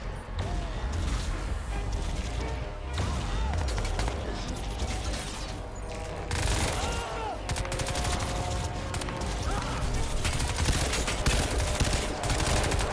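Gunfire in the shooter game Crysis 2: rapid bursts and clattering automatic fire with mechanical clicks and rattles, loud and continuous throughout.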